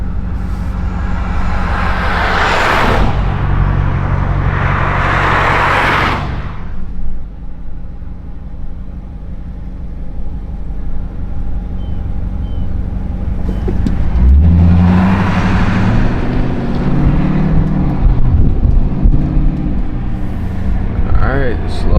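A straight-piped 2022 Chrysler 300 S engine roars loudly from inside the car while driving in first gear, with deep rumbling revs and surges under occasional excited talk.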